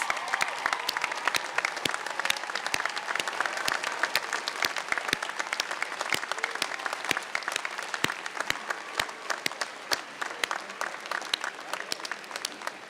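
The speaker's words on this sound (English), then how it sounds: "can all the family and friends please stand so we can thank you and give you all a round of applause?" Sustained audience applause at the 2017 UCLA Fielding School of Public Health commencement, a steady crowd of many hands clapping evenly, heard from a distance for over twelve seconds.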